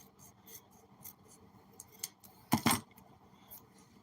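Scissors snip through a USPS shipping label in a quick burst of two or three close, crisp cuts, with faint handling rustle and small taps before it in a quiet room.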